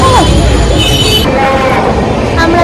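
A train rumbles close by at Belur railway station, its wheels squealing and screeching over a steady, loud mechanical roar.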